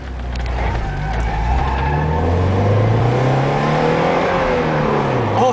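A Porsche accelerating hard at a speedway, its engine note rising and sweeping upward as it pulls away, loud and close with a faint tire squeal, with no talk over it.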